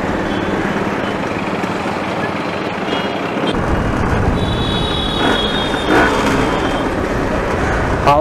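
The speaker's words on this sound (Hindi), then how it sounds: "आवाज सुन रहे हो आप स्कूटर की," Continuous loud engine drone from a super scooter being ridden on a road, steady rumble with traffic and wind noise, a short high tone midway.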